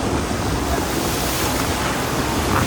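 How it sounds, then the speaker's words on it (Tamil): Strong wind and large sea waves batter a deep-sea tuna fishing boat out at sea, forming a loud, continuous broadband roar that holds steady throughout with no voices. "காற்று வந்து பயங்கரமாக அடிக்குது அலை ஒவ்வொன்றும் நல்லா பெரிய பெரிய அலையாக வருதுங்க"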